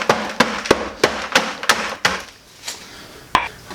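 Brittle sound deadening material being crushed by hand in a bin during sound deadening removal on a Subaru GC8 stage rally build, giving a run of sharp cracking snaps at a steady rhythm that thins out, close and loud.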